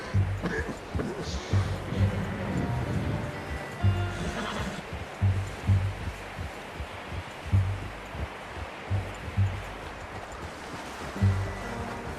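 A horse in Red Dead Redemption 2 whinnies at moderate distance over a soft outdoor ambience, with low rhythmic hoof thuds and rustling throughout.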